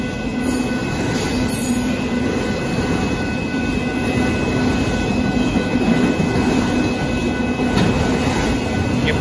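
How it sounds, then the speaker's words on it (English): A northbound Union Pacific auto train passes close by at a road crossing in Austin, Texas, with a loud, continuous rumble of rolling cars, some wheel squeal and rhythmic rail clatter. "Looks like this one was an auto train"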